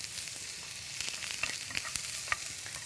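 Food for bibimbap sizzles and crackles steadily as it is stir-fried in a hot pan, with a constant close frying hiss and a few sharper pops along the way.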